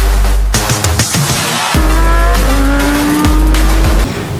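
Race car sounds play alongside toy race cars: a loud engine revs and shifts several times while tires squeal and skid, close and continuous, with no voices over it.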